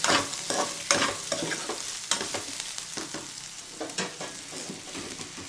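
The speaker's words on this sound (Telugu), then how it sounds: "గ్యాస్ హైలో పెట్టి ఇది అంతే ఒకసారి కలపండి ఒక్క నిమిషం అలా ఫ్రై అయ్యేలాగా" Crispy corn sizzles in a pan over a high gas flame while a spoon or spatula stirs it, leaving sharp scraping strokes at irregular intervals over a steady frying hiss.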